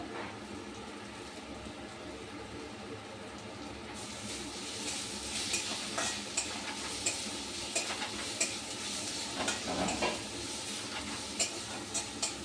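A spoon stirs a spice mixture in a pan for a paneer curry, quiet at first, then louder scraping and sizzling strokes after a few seconds, with faint running water in the background.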